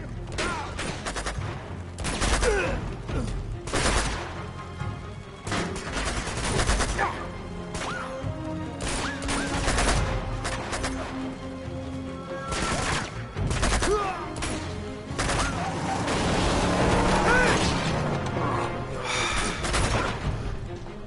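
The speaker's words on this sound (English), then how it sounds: "That's the only thing I hate about that gun. It only shoots 3 bullets at one time." Bursts of three-round gunfire in the Uncharted 2 video game, loud rapid cracks repeating in clusters throughout, mixed with in-game crashes and effects.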